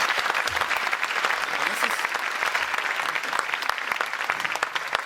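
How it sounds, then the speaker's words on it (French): A festival comedy audience applauds organizer Laurent Saucé, a dense, continuous wash of clapping with crowd murmur and voices mixed underneath, loud and unbroken throughout. "applaudissez-le, bravo Laurent."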